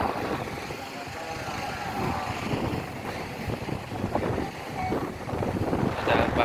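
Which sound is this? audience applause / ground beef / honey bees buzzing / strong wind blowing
strong wind blowing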